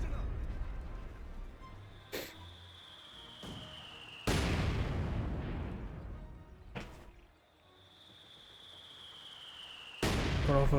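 Mortar shells exploding in a Company of Heroes 2 battle: several sharp booming blasts spaced a few seconds apart, each with a long rumbling decay, over a faint whistling tone and background battle noise.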